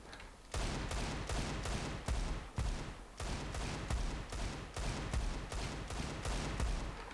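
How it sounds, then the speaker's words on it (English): Rapid, repeated Desert Eagle pistol shots in Counter-Strike 2 ring out in quick succession, a dozen or so sharp booms with short echoes, loud and close. "you can actually spam your deagle, and you can spam it at range"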